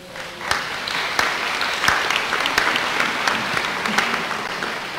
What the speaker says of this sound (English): You want to applaud for them? Let's do it.